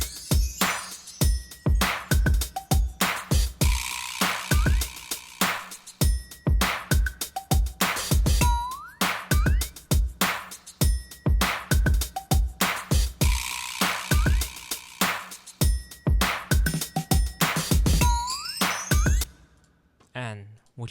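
A full programmed 90s G-funk style drum beat loops steadily with punchy kicks, snares and hi-hats, dense and loud, with a brief sparse break near the end.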